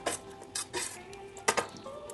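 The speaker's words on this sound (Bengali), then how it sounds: "এখন এই চিংড়ি মাছের সাথে সব উপকরণগুলো ভালোভাবে মিশিয়ে নেব।" Prawns being mixed by hand with spice paste and coconut paste in a bowl: close, irregular clinks and wet stirring knocks, a few louder taps, with no talking.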